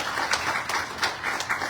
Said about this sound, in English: Let's give Panditji a lovely round of applause for the amazing work.